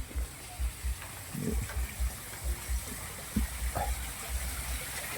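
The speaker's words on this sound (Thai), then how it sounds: "บางทีเขาก็จะเปิดเป็นละอองน้ำนี่" Water mist sprays at a cafe entrance with a steady, airy hiss, while soft low thuds recur underneath.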